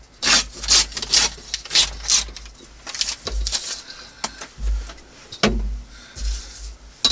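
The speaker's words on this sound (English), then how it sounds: "I think I just want to trim a little more off the side." Paper ephemera for a junk journal being trimmed, close crisp cutting and rustling strokes in short uneven bursts with pauses between, fairly quiet and alone.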